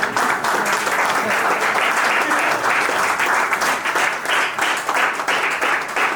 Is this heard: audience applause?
yes